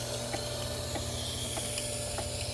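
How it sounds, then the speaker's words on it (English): A booster pump hidden under a bucket runs on a garden water line, drawing insecticide in: a steady low motor hum with faint hissing and periodic soft ticks, continuous and fairly quiet. "We've got a booster pump underneath this bucket right here."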